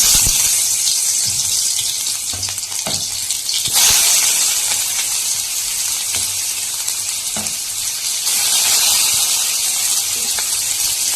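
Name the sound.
chopped onion added to hot oil in a pan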